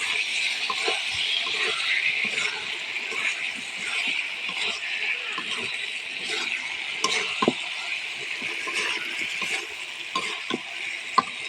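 Spiced potatoes and dried fish being stirred in a cooking pan, a steady soft scraping and sizzle running throughout with scattered light utensil clicks, close and fairly loud.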